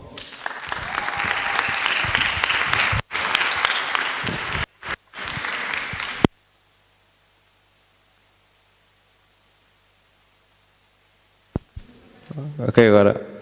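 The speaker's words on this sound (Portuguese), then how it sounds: "Por isso, uma salva de palmas." Applause at a Portuguese design talk event, a broad wash of clapping for several seconds with abrupt dropouts, then near silence before brief sound returns.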